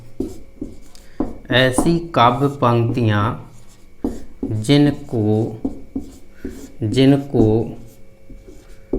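A definition being written on a board during a Hindi grammar lesson, with faint scratching strokes running under a teacher's steady, close speech.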